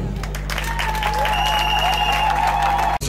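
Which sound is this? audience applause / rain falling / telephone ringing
audience applause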